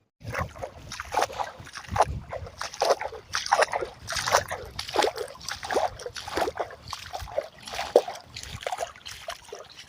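Rainwater running across rain-eroded village ground where gravel has washed down from the road, a steady nearby slosh and trickle with repeated splashy surges throughout.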